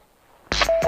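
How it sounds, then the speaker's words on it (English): A motorcycle headset sounds a brief electronic tone as the phone connects, a short steady beep that starts abruptly after near silence, with a little noise around it. "Phone connected."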